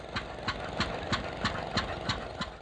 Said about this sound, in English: an antique engine show held in Vista in northern San Diego County